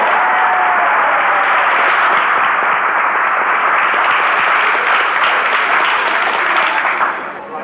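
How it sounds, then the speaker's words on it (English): A crowd applauds Elvis Presley's rhythm guitarist John Wilkinson: a dense, steady wash of clapping from a large audience, holding loud for about seven seconds before starting to fade. "Give him a nice round of applause."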